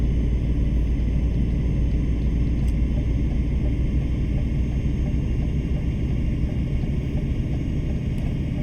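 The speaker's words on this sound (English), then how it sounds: "the sound of the engine." A steady, continuous truck engine drone in Euro Truck Simulator 2, a dense low rumble with constant road noise holding at even loudness throughout, with no talk.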